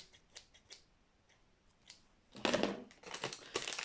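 Small metallic clicks and snips of scissors being handled up close, followed by a burst of louder rustling and crisp cutting sounds.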